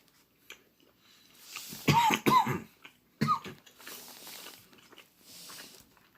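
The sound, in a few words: coughing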